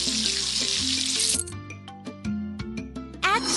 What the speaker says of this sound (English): First, wash the raspberries.